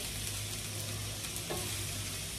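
Squash strips fry in a pan with a steady, dense sizzle that carries on at an even level, with one faint stirring knock midway and no voices.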